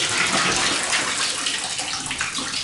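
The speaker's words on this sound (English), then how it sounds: "And it's draining beautifully. And again, we just gave a twist to the hot water." Hot water runs steadily from a bathroom tap and drains away, a continuous close hissing splash of moderate loudness with no voices.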